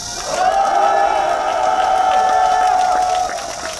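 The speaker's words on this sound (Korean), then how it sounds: "박수 치시고 함성 한번 더 올리십시오." A large outdoor crowd at a Catholic priests' Monday prayer rally in Daegu's 2.28 Park cheers and shouts, a loud, steady wall of voices that swells in and holds for several seconds before easing slightly at the end.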